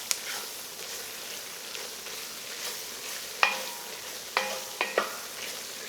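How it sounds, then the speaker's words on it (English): A gumbo roux with vegetables gets stirred in a pot with a steady sizzle and soft scraping, while a few sharp clinks of the spoon against the pot ring out near the end. "Your hand definitely gets cramped up from stirring that roux for that long."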